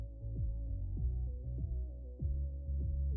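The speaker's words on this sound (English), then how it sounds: "the game soundtrack just sounds like this" A low, droning electronic game tune with a steady bassy pulse and gliding notes, played quietly and continuously without any voices.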